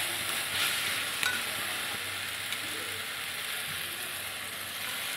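Spice paste frying in a pan with fried onions for Bengali chicken kosa, a steady hissing sizzle with a few brief stirring scrapes, close and continuous without talk.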